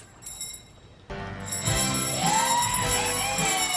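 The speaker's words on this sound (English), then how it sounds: "it's literally just people ringing bells." Bells ring out, starting quietly and swelling into a loud, layered wash of overlapping bell tones that keeps sounding.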